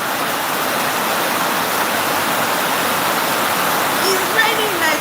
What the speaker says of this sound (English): It's raining in Nigeria.